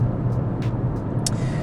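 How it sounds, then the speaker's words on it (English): Cabin noise inside a hybrid car driving down country lanes, a steady low road and engine rumble with a few brief higher rattles, close and without speech. "So even though the car is a hybrid, once we get going, it's a pretty noisy proposition."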